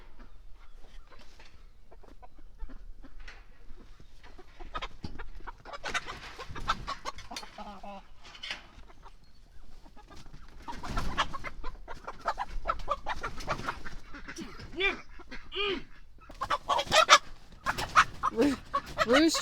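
Chickens cluck and squawk in an agitated flock, with a rooster's louder calls rising over the clucking at close range.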